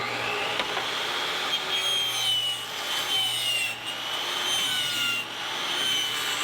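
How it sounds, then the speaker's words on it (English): A power saw trims a thin strip off a reclaimed barn wood siding board, with a steady, close, continuous cutting whine and no talk. "I'm just gonna trim 1/8 of an inch off of this sucker"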